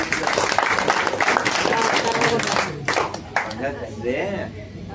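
An audience at a talk claps in a dense burst of applause that thins out, and a voice comes in over the fading claps.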